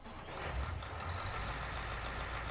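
A Fendt tractor engine in Farming Simulator 19 drones steadily at low pitch, a continuous near rumble with no pauses and no talk over it.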